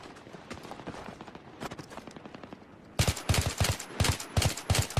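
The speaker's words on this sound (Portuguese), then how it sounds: "Esta merda, é só tiros esta merda aqui." Rapid automatic gunfire in Battlefield 3 on Xbox 360, Rush mode on Noshahr Canals, crackling in dense bursts that grow louder and heavier midway through.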